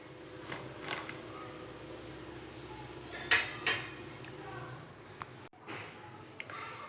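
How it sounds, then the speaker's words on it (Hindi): Fried kebabs are set onto a plate with a few soft clinks and scrapes of utensils against dishware, close by in a quiet kitchen. "अब इसे प्लेट में डाल लेंगे।"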